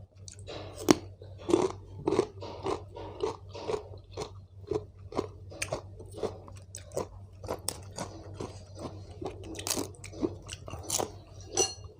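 Someone eats spicy pounded shrimp salad with fermented fish sauce, with close, repeated crunchy chewing and biting in an irregular rhythm, no talking.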